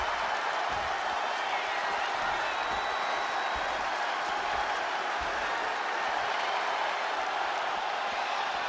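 Arena crowd in a WWE 2K26 gauntlet match roars in a steady, dense wash of cheering and light applause as Rey Mysterio works them up, continuous and moderately loud throughout.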